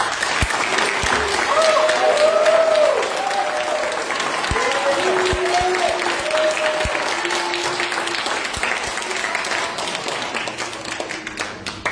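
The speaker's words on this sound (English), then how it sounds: "May we get a big round of applause for our Star Scouts" At a Scout troop Court of Honor, an audience applauds Star Scouts with steady clapping, some sharp individual claps standing out close by and a few raised voices cheering over the top.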